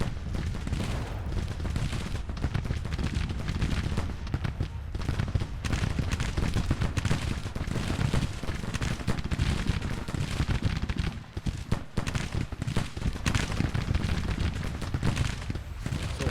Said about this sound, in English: Going to order some of our guns to bombard the reinforcements of the Union position.